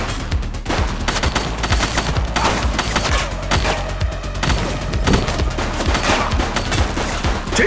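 Dense gunfire in the police video game The Precinct, with rapid overlapping shots and bursts sounding close and loud throughout a chaotic firefight, with no speech.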